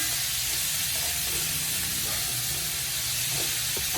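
Onions hit hot oil in a pan for horse gram thoran, giving a loud, continuous, even sizzling hiss throughout.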